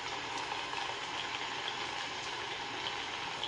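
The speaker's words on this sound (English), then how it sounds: "I listen to storm sounds before I go to sleep." Recorded storm sounds played back for sleep: a steady, faint hiss of rain with no distinct thunder, continuous and even throughout.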